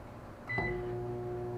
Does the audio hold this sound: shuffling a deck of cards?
no